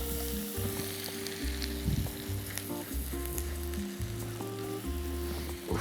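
Onion sizzling in melted butter in a pan, a steady close frying hiss with scattered crackles, heard alone without talk.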